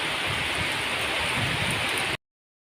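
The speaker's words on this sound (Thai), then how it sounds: "ชมบรรยากาศฝนตกเลยค่ะ" Steady rain falls in Huai Prap, Rayong, Thailand, a dense, even hiss of water hitting surfaces nearby that continues unbroken before cutting off abruptly.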